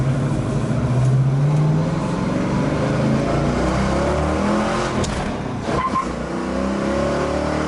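A 1965 Ford Mustang's 302 V8 with a 4-barrel carburetor roars steadily under load, a loud, continuous throaty drone with shifting pitch, recorded close with no voices.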